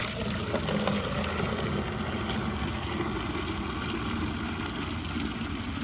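Water pours steadily into a 5-gallon bucket while mixing a degreaser solution, a continuous broadband rush with a faint low rumble beneath, holding level and close throughout.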